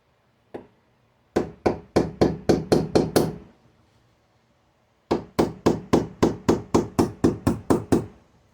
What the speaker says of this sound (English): I'm going to use a hammer to gently caress the reinforcing plates